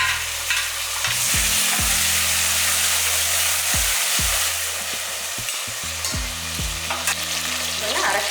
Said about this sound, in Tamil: இந்த வெங்காயம் தக்காளியை நல்லா வதக்கிடலாம்.